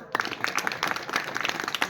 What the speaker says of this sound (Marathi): हे बुवासाठी टाळी वाजवा